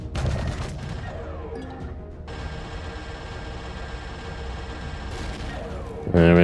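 Rapid bursts of gunfire from a weapon in the sci-fi survival game Empyrion Galactic Survival, steady and sustained with crashing impacts, a faint voice occasionally over it.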